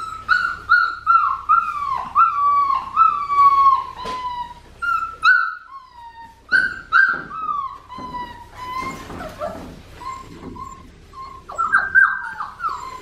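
A blue merle female puppy whimpers close by in a steady series of high, wavering whines and short cries, each rising then falling, with brief pauses between them and no talking over them.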